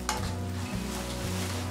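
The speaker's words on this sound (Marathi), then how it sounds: "लो फ्लेमवरती मस्त क्रिस्पी असे ड्रायफ्रुट्स भाजून घ्यायचे आहेत आपल्याला" Dry fruits such as cashews fry crisp in a pan over a low flame, with a steady close sizzle and the occasional scrape of stirring, no voices.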